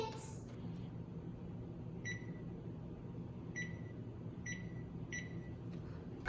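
An oven runs after being started for cooking steaks, a low steady hum underneath with a few short electronic beeps spaced across the middle and end.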